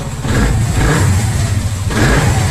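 Honda CD 70 motorcycle engine revving steadily at close range, a continuous low rumble that holds through the whole stretch and swells slightly near the end.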